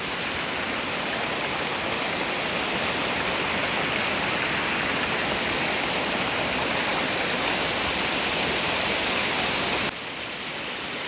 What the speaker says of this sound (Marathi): तोच पाणी इथं नॉर्मल छोटा धबधबा होऊन इथनं सरळ जात आहे कोळेवाडी गावामध्ये